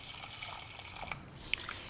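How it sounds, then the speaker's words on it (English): Water trickling and dripping into a pot to wash sushi rice, a faint, close splashing and burbling that grows a little louder toward the end. "I like to just pour a little bit of water into my pot"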